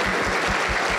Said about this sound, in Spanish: Aplausos para el Señor Jesucristo.